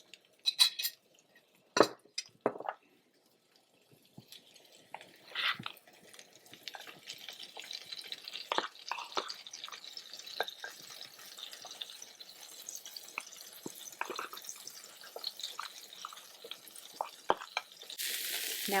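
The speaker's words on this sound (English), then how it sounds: "you should hear that sizzle" Pork roll for an omelette crackles and sizzles in a hot pan, a soft hissing broken by scattered pops and scrapes of stirring, growing denser toward the end.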